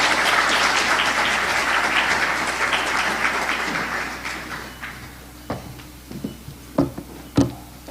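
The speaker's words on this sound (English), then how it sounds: "Come on, let's keep clapping till he gets here." Audience at an investment conference applauds for arriving guest Fred Swanika, dense clapping fading over about five seconds into a few scattered, sharp individual claps in a quieter hall.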